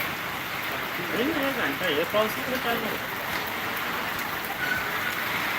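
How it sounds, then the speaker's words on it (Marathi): Steady rain with wind forms a constant hiss throughout, heard under a person speaking in the middle and a faint whistle-like tone later. "पावसाचं वातावरण काय चाललंय काय वारा पण सुटलेलं आहे"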